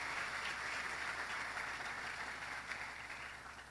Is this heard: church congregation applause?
yes